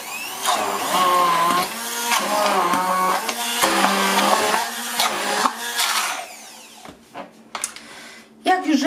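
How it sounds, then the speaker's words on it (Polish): Hand blender whirring loudly through cheesecake batter with butter, steady motor drone with pitch wobbles as it works, then stopping and starting in short bursts near the end. "I wszystko zblendujemy jeszcze blenderem."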